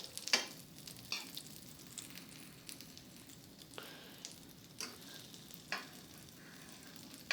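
A frozen minced beef patty fries in a pan with a little fat, giving a quiet, steady close sizzle broken by occasional sharp pops and spits.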